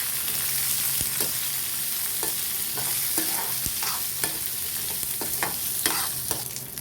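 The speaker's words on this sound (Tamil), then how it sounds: "இது கொஞ்சம் நல்லா வதக்கி விட்டுக்கலாம்." Coriander chutney ingredients, including coconut slices and tamarind, sauté in a pan with a constant sizzle, and a spoon stirs and scrapes repeatedly, giving clear irregular clicks up close.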